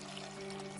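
Water pouring into a home fish tank in the video game Lost Words: Beyond the Page, a steady, even splashing stream filling the whole short moment without a break.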